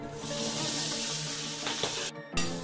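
Tangra fish coated in salt and turmeric fries in about a cup of hot oil. A steady, close sizzling hiss fills the clip and briefly cuts out near the end before resuming.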